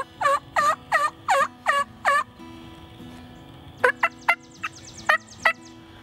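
Young wild turkeys, jakes, gobble in a field with a burst of six rapid rattling calls, a short pause, then several more scattered gobbles, fairly near and clear with no talking.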